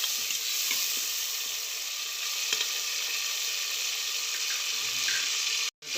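Potato and eggplant sabzi frying in a pan with tomato and green chili, a loud continuous sizzle with light scraping, briefly cutting out near the end, no talking.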